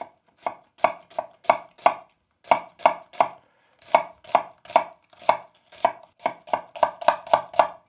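Half an onion chopped on a cutting board for sundubu jjigae (soft tofu stew): about two dozen crisp knife strikes in steady bursts, close and clear, with a short pause midway and no talking.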